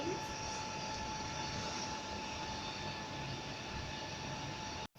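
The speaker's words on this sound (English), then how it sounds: "And this is the milling machine." A milling machine hums steadily in a manufacturing workshop, a constant mechanical drone with broad noise that holds level for about five seconds before a brief click and drop at the end.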